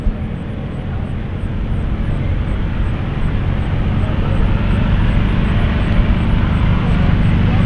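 A Percival Provost warbird, a 1950s Royal Air Force trainer, flies at the 2021 Culpeper AirFest, its engine a loud, steady drone that swells slightly as it passes while an announcer talks over it.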